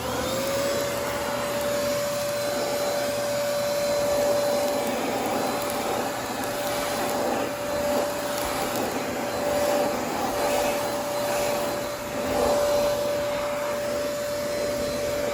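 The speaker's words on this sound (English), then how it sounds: "Just gonna run the vacuum real quick." A vacuum cleaner runs on an EcoFlow DELTA 1300 portable power station, giving a steady, loud, close whooshing drone with a constant whine throughout and no talking.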